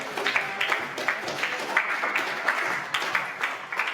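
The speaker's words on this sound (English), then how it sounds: "So give a round of applause to you all" An audience at a graduation ceremony breaks into applause, a moderately loud spread of clapping that swells and eases in uneven bursts.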